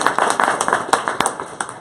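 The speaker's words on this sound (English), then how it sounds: "another round of applause for Alexis and Dana." A small crowd at a lunch talk on Local Law 119 at Civic Hall claps in a brief, steady burst of close, loose hand claps, heard without any talking.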